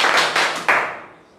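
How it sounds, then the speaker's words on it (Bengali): An audience claps at a student award ceremony for second-year honours exam candidates, a few loud bursts of hand claps swelling then tapering off into quiet within about a second. "হাততালি"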